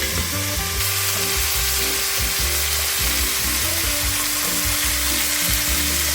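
Loud, continuous sizzling as a beef pot roast and added liquids hit a hot pot, a dense hiss with scattered bubbling and faint clinks close up, no voices.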